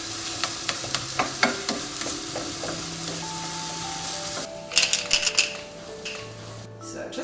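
Mushrooms and garlic sizzle steadily in a frying pan, with a few sharp clinks of a utensil against the pan and some brief clattering near the end.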